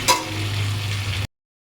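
Oil sizzles and crackles steadily in a pan for about a second, close and fairly loud, then cuts off abruptly into silence.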